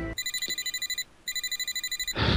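A phone rings in a visual novel video game, with rapid repeated electronic trill bursts in two rings separated by a short gap, then a louder burst of noise at the end.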